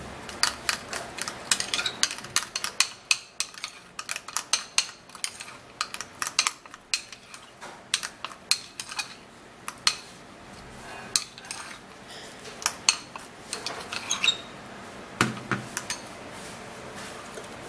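A spoon clatters and clinks against a bowl while skin toner ingredients are stirred together, with irregular scraping taps and sharp clinks over about eighteen seconds, close and fairly loud, with no talking.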